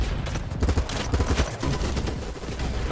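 Dense sustained gunfire in the shooter BattleBit Remastered, a loud continuous fusillade of overlapping rapid shots throughout, no voices.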